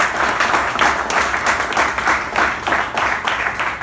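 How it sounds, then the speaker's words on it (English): A loud round of audience applause at a communication club's installation ceremony rolls on continuously with dense, overlapping claps from a full room throughout. "let's give them both a fantastic round of applause"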